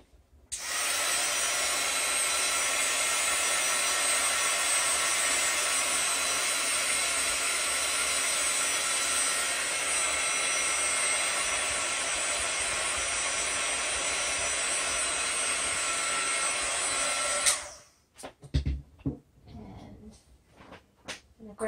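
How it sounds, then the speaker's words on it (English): A heat gun blows steadily across an art journal page, a loud even roaring hiss held for about seventeen seconds before cutting off, followed by a few faint handling knocks. "I'm just going to hit it with the heat gun real quick"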